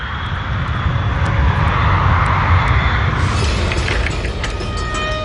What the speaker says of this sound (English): Avianca 52 takes off from Medellin with its maximum allowable fuel load